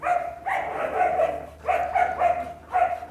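Dogs barking in a kennel setting, a few loud nearby barks repeating in bursts, no speech.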